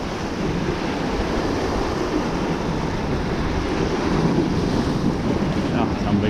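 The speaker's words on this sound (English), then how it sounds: "big waves down there" Big ocean waves roll in below a pier in Durban, a steady loud wash of surf mixed with gusting wind buffeting the microphone throughout, with no voices heard.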